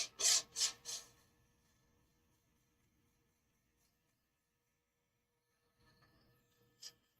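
Coarse sandpaper rasps against a turned wooden pen on a lathe in three quick, close strokes, then near silence before one more brief scratch at the end.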